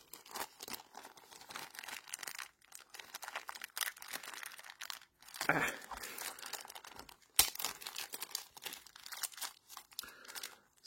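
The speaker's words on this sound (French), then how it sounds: "Donc là déjà on a une petite pochette qu'on va ouvrir." A small pouch from a Hollyland Lark Max microphone kit is opened, giving close, intermittent crinkling and rustling with brief tearing and crunching bursts at a quiet level.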